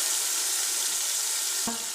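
Ground onion goes into a pot of hot mutton paya soup, giving a steady, bright sizzle and bubbling hiss throughout, with a brief clink or stir sound near the end.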